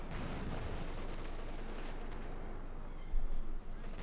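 Distant machine gun fire in a Company of Heroes 2 battle, a steady low rumble of rapid shots with a louder burst near the end, no voices.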